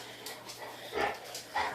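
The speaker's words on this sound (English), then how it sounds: "the dogs are fighting" Dogs fighting make short growling, whimpering yips and snarls in quick bursts, close and moderately loud, with no talk.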